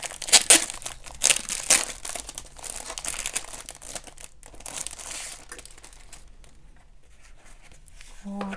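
Crinkling plastic packaging of a 15 by 15 scrapbooking paper set, with close, loud rustles and crackles in bursts that fade toward a quieter end.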